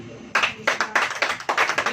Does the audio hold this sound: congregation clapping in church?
yes